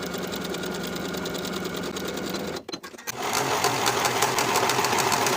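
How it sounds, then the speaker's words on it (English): A sewing machine runs a steady, fast rattling stitch along a shirt bodice seam, pauses briefly, then resumes a little louder, alone with no voices. "Sew with a 3/8 inch seam allowance, finish the raw edges together and press to one side."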